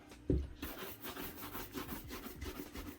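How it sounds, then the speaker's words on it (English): A rag buffs wax off an everyday leather shoe, producing soft, rapid rubbing strokes close by, with a small knock near the start. "Okay, so this is now the third coating for the wax. I'm gonna try to buff it off now."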